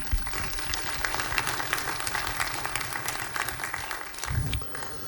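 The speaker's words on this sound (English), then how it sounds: "So round of applause for you guys." A live audience at a city hall entrepreneurship pitch event gives a sustained round of applause lasting several seconds, fairly close, steady dense clapping that briefly swells near the end.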